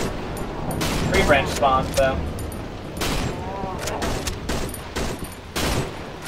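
Gunfire crackles in the Cry of Fear horror game, several sharp, loud shots in irregular bursts mixed with other game noises, while a voice talks over them.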